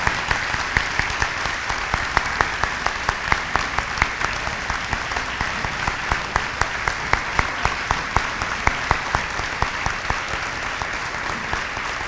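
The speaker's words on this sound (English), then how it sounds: "please give them one more round of applause" A school audience of Highlanders gives veterans a steady round of applause at a remembrance event, dense continuous clapping from many hands at moderate level, with a few sharper claps standing out near the front.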